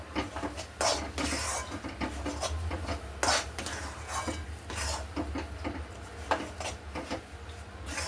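A spoon stirs and scrapes cooked chana dal puran filling with cardamom powder in a pot, giving repeated close, soft scraping and knocking strokes in an uneven rhythm.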